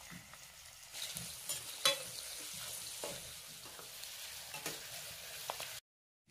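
Medium-size onions, sliced lengthwise, fry in oil with garlic for capsicum rice, a steady close sizzle with occasional stirring scrapes, ending abruptly in silence.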